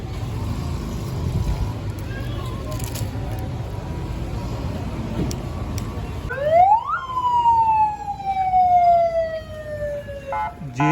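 An ambulance siren rises out of low road rumble and wails loud and close for the last few seconds, its tone sliding up and then gliding down, at the scene of a car accident.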